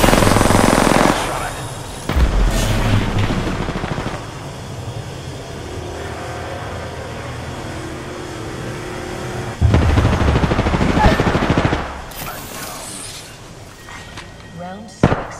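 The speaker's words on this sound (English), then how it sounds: "The enemies are shooting at me." Enemy gunfire in a video game crackles in loud bursts at the start and again near the end, with a busy, dense layer of game noise and effects between them.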